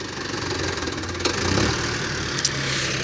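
A Mahindra Arjun Novo 57 HP tractor engine runs at high RPM, a steady, close mechanical drone with brief clicks and a slight rise partway through.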